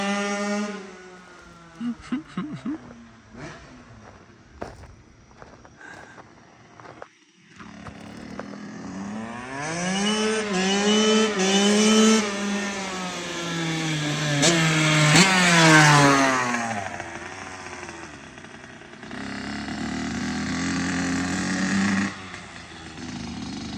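A Kawasaki KX85 dirt bike engine revs hard, rising and falling in pitched two-stroke wails that climb to a loud peak and drop off, with sputtering blips before and after.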